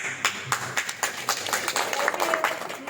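A classroom of students claps hands together in rhythmic unison, a quick series of sharp, roughly evenly spaced claps over a few seconds, fairly close and lively.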